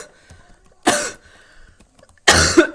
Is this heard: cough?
yes